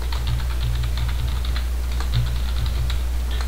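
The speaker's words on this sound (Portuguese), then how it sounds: "Você vai digitar o endereço." An address being typed on a computer keyboard, with quick irregular key clicks, close and fairly soft, over a steady low electrical hum, with no voices.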